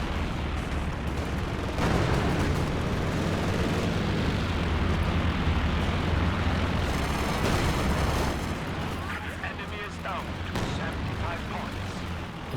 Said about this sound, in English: But here come the off-map airstrikes.